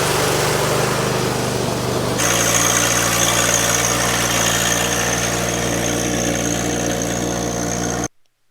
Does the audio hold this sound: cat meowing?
no